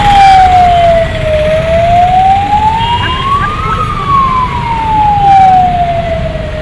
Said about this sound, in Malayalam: ഇതിനിടയിൽ രാമനാട്ടുകര ഭാഗത്തു നിന്നും മെഡിക്കൽ കോളേജിലേക്ക് ആംബുലൻസ് എത്തുന്നു.